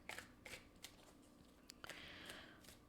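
Tarot cards being drawn and slid from a deck at close range, soft quiet swishes and brief flicks in short bursts, no talk.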